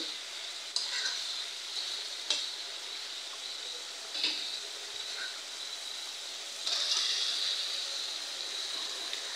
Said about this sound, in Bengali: ভালো করে লাড়াচাড়া দিয়ে আলুগুলা মিশাই নেই